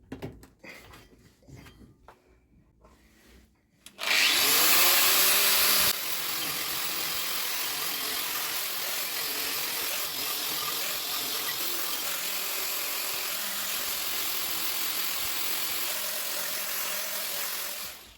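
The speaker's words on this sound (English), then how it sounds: "next step, cleaning these discs up. Hoping the wire wheel is going to be sufficient" Wire wheel scouring steel brake discs on a Talbot Horizon, a loud, harsh continuous whir and scratch that starts abruptly after a few seconds of quieter workshop clatter and holds steady to the end.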